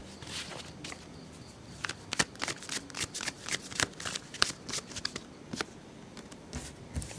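Tarot cards being shuffled and pulled during a pick-a-card reading, a run of sharp crisp riffling snaps and soft card slaps in irregular bursts, close and clear with no talking.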